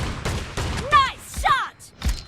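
Shotgun blasts in a PUBG Mobile team deathmatch: several sharp bursts in quick succession with whooshing effects, mixed with game announcer voices.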